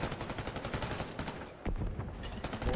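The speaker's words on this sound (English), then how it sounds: "Bullets exchange with no opener yet." Rapid automatic gunfire exchange in a Call of Duty match, loud and continuous with dense rhythmic bursts throughout, a brief dip midway before heavier shots resume.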